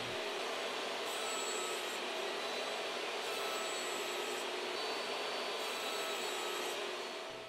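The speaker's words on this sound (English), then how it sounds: "I rip my 3/16 inch plywood, and using my table saw sled and a stop block" Table saw ripping 3/16 inch plywood, a loud steady roaring whine with slight shifts as the blade cuts through the sheet, no talking.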